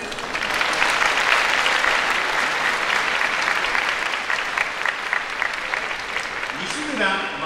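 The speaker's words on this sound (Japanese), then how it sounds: "ご来場の皆様、盛大な拍手でお迎えください。" Crowd applause at a horse race award ceremony for the Takamatsunomiya Kinen 2023, a broad, sustained clapping from a large audience that carries on throughout, with an announcer's voice coming in near the end.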